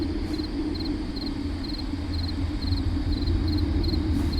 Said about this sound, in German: Irgendwo ist hier eine Grille.